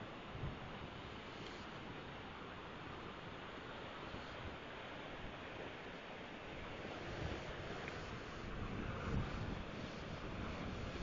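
Ocean surf at Kesirat Beach in Gunung Kidul is a steady, broad wash of waves that rises and falls slightly. Heavy wind buffets the microphone throughout, and nobody speaks.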